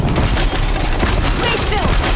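Bombs exploding in a Horizon Zero Dawn Frozen Wilds battle against corrupted machines, a loud, dense burst of booms and crackling blasts layered over game noise, with a voice reacting.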